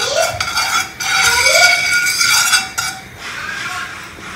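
Ghee spooned into a pan while cooking sabudana vada: metallic spoon scraping and clinking against the pan with a soft sizzle, fairly loud and close, with no talk.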